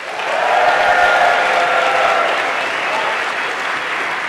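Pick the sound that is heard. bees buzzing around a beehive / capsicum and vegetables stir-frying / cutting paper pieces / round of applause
round of applause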